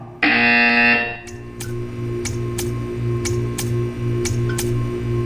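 An electronic alarm-buzzer tone sounds once for under a second, then a steady mechanical hum continues with a run of sharp ticking clicks at even intervals, all inside a test chamber in the video game Portal 2.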